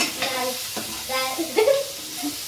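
Chopped onions frying in a pan for paneer tikka, stirred with a spatula. Close scraping strokes and clinks ride over a steady sizzle.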